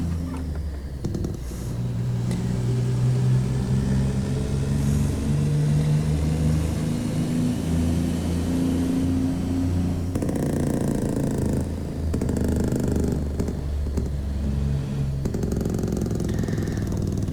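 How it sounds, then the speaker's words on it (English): Big Cam 400 truck engine in American Truck Simulator, a steady deep diesel drone holding loud and close throughout, with a rattling Jake brake barking in over the latter part as the engine note shifts. "This Big Cam 400. Love the Jake sounds. Love the engine sounds."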